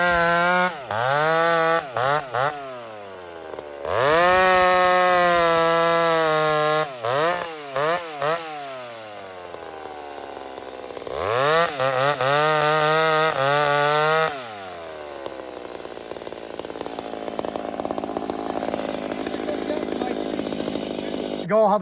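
A Husqvarna-style 372 chainsaw revs up and drops back again and again, loud and close, with rising and falling engine whines in strong bursts and then a rougher, steadier idle-like running.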